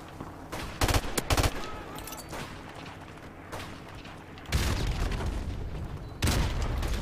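Gunfire and explosive blasts from Call of Duty 4 Modern Warfare Remastered multiplayer, with two heavy booms arriving a few seconds apart amid ongoing shots, loud and close.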